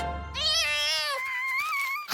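A cartoon cat gives a long, drawn-out, high meow that rises and then bends downward, loud and close, with nothing else around it.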